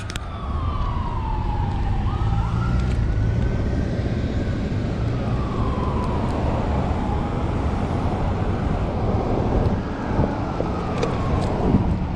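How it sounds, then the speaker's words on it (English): An ambulance siren sweeps slowly up and down at a distance during a bike ride, sitting under steady wind and road noise and fading gradually as it goes by. "Ambulance over there."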